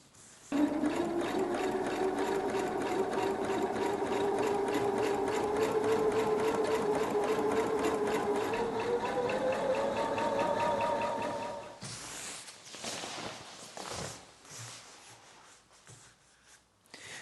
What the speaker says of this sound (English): now I have to flip it and sew the other end